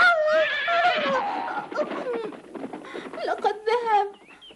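A cartoon zebra lets out a loud, close, horse-like whinny with a wavering pitch and a few breathy follow-up calls, set among animated sound effects.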